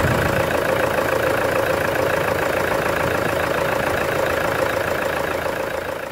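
A pickup truck engine, Toyota Hilux class, runs at a slow steady idle just after starting, a continuous close mid-low drone with a smooth even hum and no talk over it.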